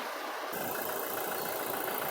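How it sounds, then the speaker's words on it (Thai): A Toyota Revo pickup's 2.4-litre engine idles smoothly under the open bonnet, giving a steady, even hum with a soft whirring layer that holds close and constant after a brief quieter start. "อยากให้พี่ๆลองฟังเสียงเครื่องนะคะ เดินได้เรียบ เดินได้สมูทมากเลยนะคะ"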